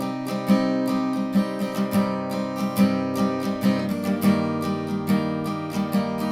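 Chords strummed on an acoustic guitar in a steady down-and-up rhythm, each stroke crisp and close, ringing on with no voices.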